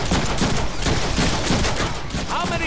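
Dense, loud gunfire in the Deadpool video game, a continuous barrage of overlapping shots and impacts that fills the whole moment with no break.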